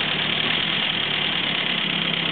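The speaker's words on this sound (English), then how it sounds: "So we'll get the engine hot now and do the tappets again." A 1934 Morris 10 convertible's engine idles steadily while warming up, a continuous even drone with a faint mechanical vibration throughout and no talk.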